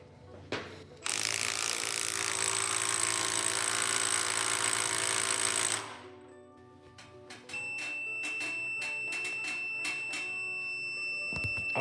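An older Milwaukee M12 stubby 1/2-inch impact wrench hammers loudly and continuously for about five seconds, then stops, followed by clicking ratchet-like mechanical sounds close by.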